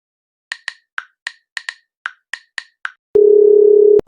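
A phone call's sequence of short keypad dial beeps, about ten quick tones, followed by a steady, loud, near dial tone that holds for nearly a second before cutting off, with no talk over it.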